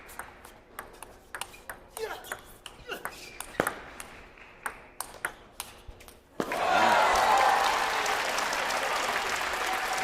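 A crowd bursts into loud, sustained applause at a table tennis match in the US Open men's semifinal, right after a rally of sharp, repeated ball pings and paddle hits.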